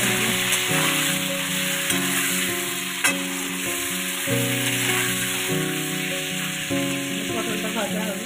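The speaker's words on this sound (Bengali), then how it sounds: "এবার আমি কড়াইয়ে পটলগুলো, আগে থেকে টুকরো করে রাখা পটল, তেলের মধ্যে দিয়ে দেবো।" Cut pointed gourd pieces frying in oil in a wok, a loud continuous sizzle with occasional stirring clatter, while steady tonal background music plays underneath.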